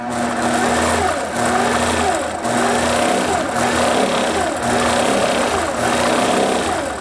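A quilting machine with its stitch regulator on runs in rapid bursts, a loud mechanical whirring hum that pulses and surges as stitching speeds up and slows, close and steady without talk.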